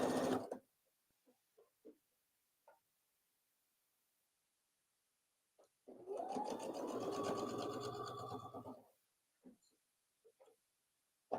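A sewing machine stitches a seam on a memory bear in one steady run of about three seconds, framed by quiet stretches with scattered small clicks and fabric handling.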